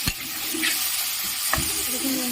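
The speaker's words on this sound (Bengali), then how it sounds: "মশলাটা কষানো হয়ে গেছে।" Spice paste for a fish curry is stirred and sautéed in oil in a pan, with a steady faint sizzle broken by two sharp scraping clacks of the spoon against the pan.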